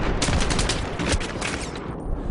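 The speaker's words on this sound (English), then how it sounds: "Assault rifles produce the typical popcorn impacts" Dense, rapid automatic assault rifle fire rattles continuously in a busy battle mix in the Xbox 360 game Blackwater, shots blurring into a steady crackling stream before easing off at the end.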